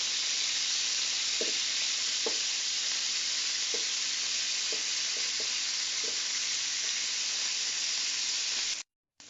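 Buttered asparagus sizzles steadily in a frying pan, a loud continuous hiss with a few soft ticks and pops from stirring, cutting off abruptly at the end.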